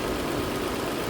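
A 2008 Nissan Altima engine with a lean bank 1 fault idles with a steady, close, even drone and no pauses or voices throughout.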